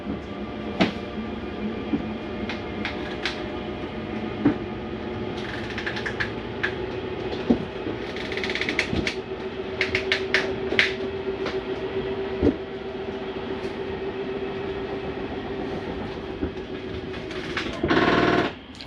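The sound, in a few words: Prowler 303BH RV slide-out mechanism retracting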